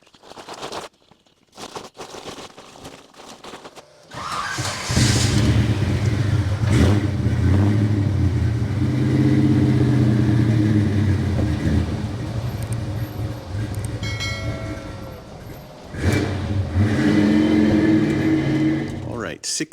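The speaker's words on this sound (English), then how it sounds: "First thing I got to do is get this Chevy out of the road." A Chevy car's engine starts and revs, then runs on with a steady loud rumble nearby as it pulls away, with a faint voice early on.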